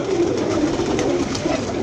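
A pigeon coos close by in a low, repeated warbling murmur over a steady background hum, with no voices.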